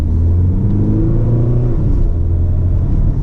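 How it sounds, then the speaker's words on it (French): A 2020 Audi A3 Sportback S-Line S-Tronic diesel engine revs up with a steady low rumble and rising hum, loud and close, running continuously without any speech. "on entend quand même mieux le moteur, mais il faut quand même donner un petit coup d'accélérateur"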